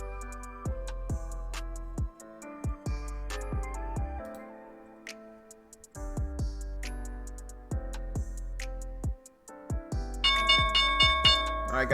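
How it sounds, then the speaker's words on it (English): The stock market opening bell rings during a day-trading session. Repeated struck bell tones with long ringing decays come in clusters over a steady low hum, and the ringing grows denser and brighter toward the end. "there's the bell"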